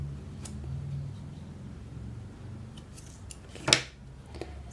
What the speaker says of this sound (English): I'll cut my yarn here.